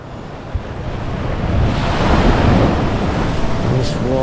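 Surf washes ashore at Thomas Beach in Bali, with a broad roar of breaking waves building and holding under heavy wind buffeting the microphone.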